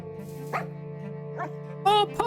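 Puppies barking in a video game: a few short yips and barks spaced over about two seconds, the last pair louder and higher, over a steady low electronic hum.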